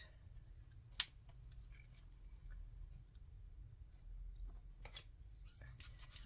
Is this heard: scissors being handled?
yes